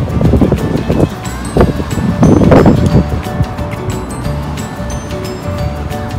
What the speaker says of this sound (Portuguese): tá vento, acho que vocês não vão escutar quase nada